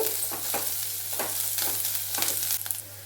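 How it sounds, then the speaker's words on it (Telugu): Onion frying in oil with asafoetida for a tempering, a steady close sizzle broken by several soft stirring scrapes, with no one talking. "కొద్దిసేపు ఆనియన్ వేగనింది"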